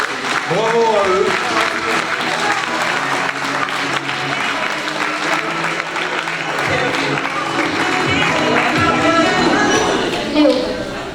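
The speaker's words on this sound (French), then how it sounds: "vous pouvez les applaudir" An audience applauds the three mini-kings at a town festival evening for the election of the festival queen in Hagetmau, sustained clapping filling the room while a voice talks over it.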